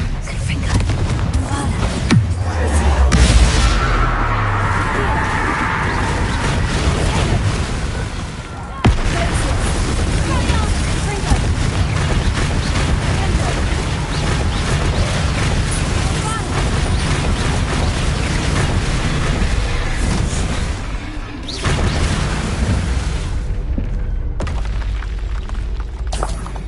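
Confringo blasting spells in the Hogwarts Legacy video game set off a heavy run of loud, rumbling explosions that almost fill the whole stretch, with voices heard over the blasts.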